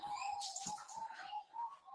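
Birds in an aviary at a marsupial park, a steady stream of chirps and calls layered over a constant background hum, moderately loud and continuous with no talking.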